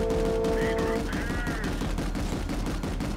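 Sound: Basilisk machine gun firing in video game Planetside 2

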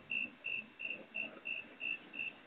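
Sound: crickets chirping

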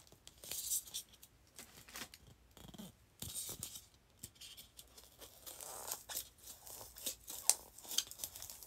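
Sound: cutting styrofoam with scissors

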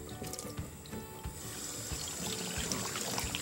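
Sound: rinsing squid under running tap water

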